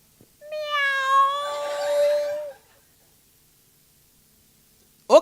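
A voice imitates a cat, producing one long drawn-out meow lasting about two seconds, close and clear, followed by silence and a brief vocal sound.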